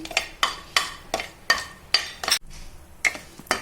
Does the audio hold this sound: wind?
no